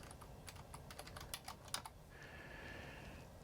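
Typing a URL on a computer keyboard, a quick run of crisp key clicks in uneven bursts, close and fairly quiet, ending in a faint steady electronic whine.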